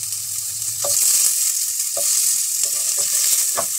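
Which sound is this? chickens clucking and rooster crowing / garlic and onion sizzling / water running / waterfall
garlic and onion sizzling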